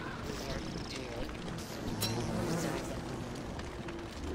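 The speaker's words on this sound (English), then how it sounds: "More bees over here." Bees buzz in the video game Don't Starve, a steady droning hum that runs throughout at moderate level with faint game sounds mixed in.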